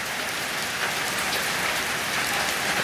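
A steady downpour of heavy rain roars close by, thick and continuous, drops drumming on surfaces with no gaps or voices.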